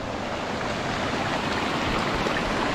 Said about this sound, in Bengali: এদিকে স্রোত একটু কম রয়েছে, জল জমে রয়েছে।